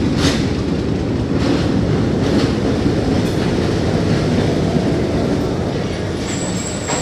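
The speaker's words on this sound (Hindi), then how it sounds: "और आखिर 30 मिनट की देरी के बाद 147 अब सरगोदा स्टेशन पर अराइवल हुई" The Pakistan Railway 147UP Miyanwali Express pulls into Sargodha station with a loud, continuous rolling rumble and rattle of coaches, rhythmic wheel clacks, and a thin high squeal of wheels toward the end.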